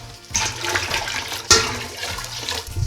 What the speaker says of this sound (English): now I'm just going to add the other gallon of water to it